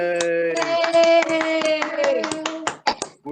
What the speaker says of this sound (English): we should applaud again